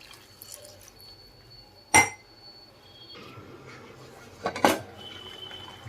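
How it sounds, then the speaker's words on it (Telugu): A glass of water goes into a pot of mutton head curry in a home kitchen, with a sharp clatter of glass on metal, a quieter stretch, then another splash and clink against soft background noise. "ఇప్పుడైతే నేను వాటర్ అయితే గ్లాస్ వాటర్ అయితే వేసుకుంటాను"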